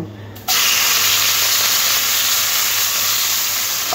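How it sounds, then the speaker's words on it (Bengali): Salt- and turmeric-rubbed prawns drop into hot oil and burst into a loud, steady sizzle and hiss that carries on without a break to the end. "এবার এই তেলের মধ্যে নুন আর হলুদ মাখা চিংড়ি মাছগুলো ভেজে নেব।"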